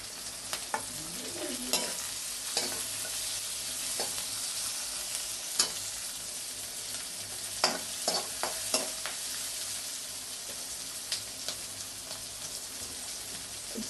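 Ginger and garlic for kappa beef biryani sizzle gently in a pan while a spoon stirs them, with scattered scraping clicks and soft crackles over a steady frying hiss, close and fairly quiet.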